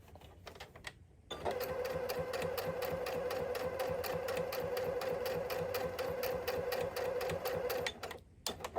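A Singer C7255 sewing machine stitching through four layers of fabric, a steady rapid mechanical chatter with a humming motor tone running close and even for about seven seconds, with brief pauses before and after.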